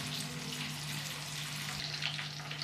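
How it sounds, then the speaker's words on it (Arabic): Chicken pieces fry in a hot pan for an Algerian home-cooked meal, giving a steady, faint hiss with a low hum underneath and no speech. "ونروحو نجيبو الدجاج نتاعنا هذاك اللي نحيناه من قبل، ونحطوه يتمقلى"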